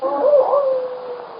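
A long, wavering wolf-like howl, a single sustained call that rises and then slowly falls and fades, moderately loud with no talking over it.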